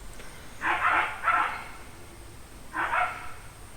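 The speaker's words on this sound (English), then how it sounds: "My neighbor's dogs make a lot of noise." A neighbor's dogs bark outdoors, with three fairly loud barks from some distance: two close together, then a pause and a third. There is no talking.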